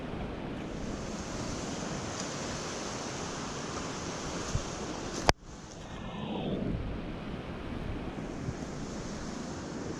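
Floodwater in a Kenyan river rushes in a broad, steady roar, loud and constant, broken by one sharp handling knock midway before the torrent continues.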